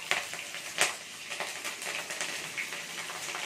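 Mustard seeds, cumin and green chillies sizzle in hot oil with a bright, crackling fry. Sharp spattering pops stand out early, over a steady sizzle close to the mic.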